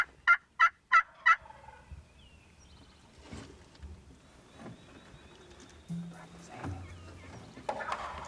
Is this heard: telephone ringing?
no